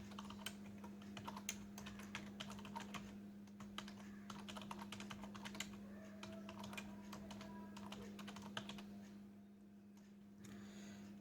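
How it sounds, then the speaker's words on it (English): Fast, uneven keystrokes on a computer keyboard, close and fairly quiet, rattling in bursts over a constant low electrical hum, then trailing off near the end. "Let's type it out."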